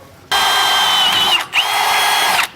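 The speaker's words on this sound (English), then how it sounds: "drilling through our I-beam with those smaller drill bits" A small-bit power drill bores through the steel I-beam of a 2016 Keystone Hideout travel trailer. It gives a loud, steady high whine for about two seconds, with one brief dip in the middle, and no voices.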